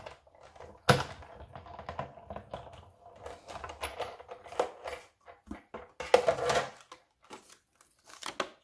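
Card paper for birthday cards is cut close by, giving irregular snips, crunches and rustles of paper handling, with a sharp cut near the start and another dense burst later, without talking.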